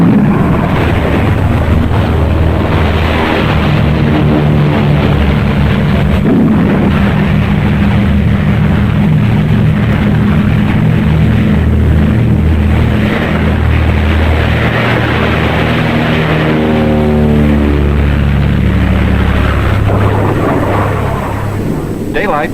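Aircraft engines drone loud and steady from a carrier deck in darkness ahead of a storm, their pitch sweeping upward as planes take off one after another, with a constant heavy rumble throughout.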